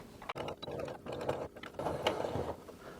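A sewing machine stitches fabric seams for cross-stitch Christmas ornaments, running in short uneven bursts of mechanical whirring and clicking with brief stops, close and moderately quiet, with no voice.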